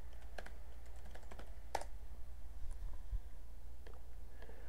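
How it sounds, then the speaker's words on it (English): Fingers type on a computer keyboard in short bursts of sharp, close key clicks with brief pauses between them, with no talking. "Type in my political view, libertarianism."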